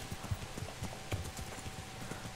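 Horse hooves clip-clopping at a steady riding gait in Kingdom Come Deliverance, a medieval game, with even, fairly close beats over a soft ambient bed and no talk.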